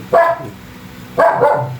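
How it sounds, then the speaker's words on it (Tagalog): Two loud, close dog barks about a second apart, each a sharp burst with a short tail. "Maingay yung aso."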